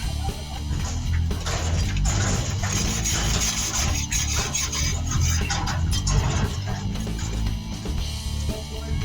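A wire brush scrubs the rear drum brake parts of a 1974 Chevrolet Monte Carlo, a continuous close scratching and rasping that runs steadily under a constant low workshop hum, with no talk.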